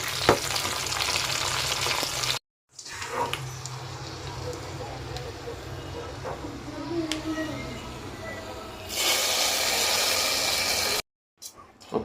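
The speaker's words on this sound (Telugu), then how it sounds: "వెల్లుల్లిపాయలు, కరివేపాకు, ఎండుమిరకాయ, ఇంకా తాలింపు ఐటమ్స్ అన్నీ కూడా నెయ్యితోనే వేయించుకొని" Garlic, curry leaves and dried chillies fry in hot ghee for a tempering, giving a steady close sizzle with stirring scrapes, broken by two brief silent gaps and swelling louder near the end.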